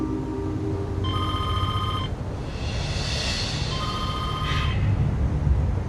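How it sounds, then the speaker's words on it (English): A phone rings in two electronic bursts about two seconds apart, loud and near, over a low background rumble with no talking. "It's always especially difficult for me to be interrupted in that process by the phone ringing"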